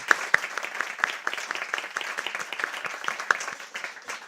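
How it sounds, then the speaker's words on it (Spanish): Audience applause at a truffle forum event in Teruel, a steady patter of many hands clapping at moderate volume, with a few sharper individual claps standing out through the roughly four-second burst. "os voy a pedir un fortísimo aplauso para ellos cuatro"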